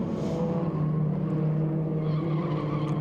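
An HQ Holden race car slides sideways at Winton, its tyres skidding and squealing over a steady engine drone, loud and close for about three seconds.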